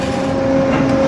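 A monorail car starts to move in a small West Virginia town, a steady loud mechanical hum with a constant tonal drone and rumble, no voices.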